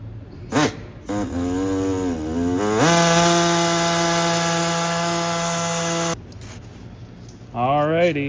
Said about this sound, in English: I just used a little pneumatic hacksaw cutoff tool. We just chopped that off.